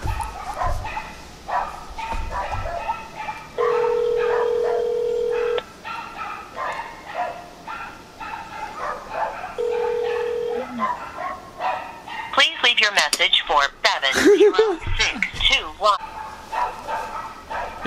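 Dogs bark and yip repeatedly, loud bursts that peak near the end, mixed with people talking and tone-like beeps.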